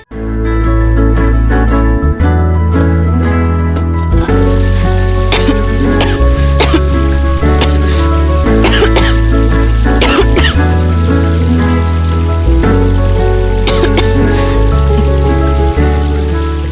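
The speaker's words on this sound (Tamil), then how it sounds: "திடீர்னு எப்படி இருமல் வந்துச்சு உனக்கு?" Repeated coughs and throat-clearing sound over loud, steady background music, with sharp bursts scattered through the track.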